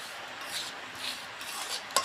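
Semolina and milk powder sweet mixture stirred in a kadai, a soft continuous scraping and rubbing with a faint clink near the end, close and quiet with no talk.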